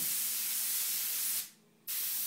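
A steady, close airbrush hiss of spraying paint onto paper for a fire design, stopping briefly for a moment before resuming.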